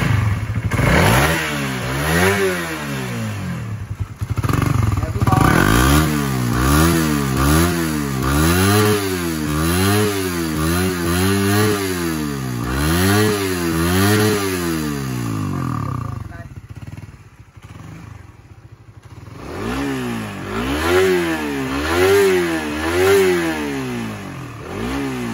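A Suzuki Satria motorcycle engine runs close up and revs repeatedly in rhythmic rising and falling bursts, drops briefly to idle, then revs hard again, with a brief voice during the running.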